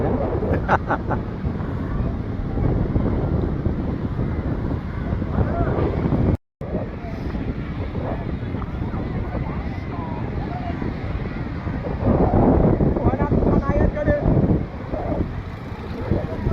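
At Bapatla beach, a continuous roar of wind buffeting the microphone mixes with surf, with voices talking underneath; the wash swells briefly near the end.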